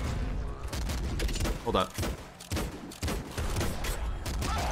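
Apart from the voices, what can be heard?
bazooka fire and explosions in the video game Nuclear Throne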